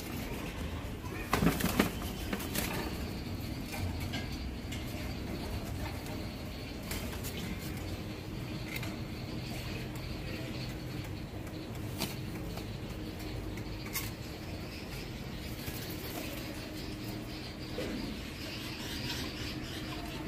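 Blue lace satinette pigeons in a loft give soft, faint coos and rustles, with the odd brief flutter of wings above a constant background hiss.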